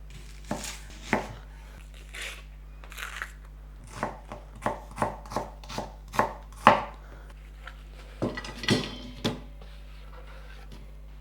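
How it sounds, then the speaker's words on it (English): A knife chops through a whole onion on a cutting board, sharp distinct strikes in an uneven rhythm with short pauses, close and clear with no talking. "Then we'll be cutting up a whole onion"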